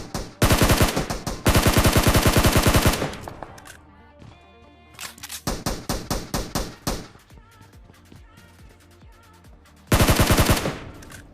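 Automatic gunfire from the battle royale game PUBG, including an SLR, comes in loud rapid bursts separated by short pauses and scattered single shots, with a final burst near the end.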